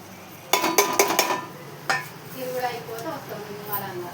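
Food being stirred in a metal pot after salt goes in, with a quick run of sharp clinking scrapes up front, one more knock, then softer scraping and a faint sizzle underneath.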